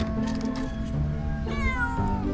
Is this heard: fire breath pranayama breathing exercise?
no